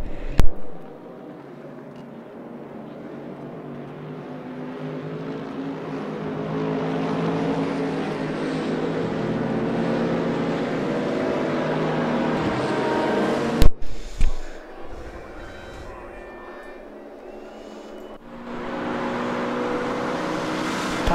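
Engine drones of GT3 cars in RaceRoom at Silverstone GP rise and fall as the field streams past, then two sharp engine swells cut through before the noise drops and builds again.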